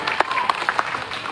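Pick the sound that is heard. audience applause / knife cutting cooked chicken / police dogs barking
audience applause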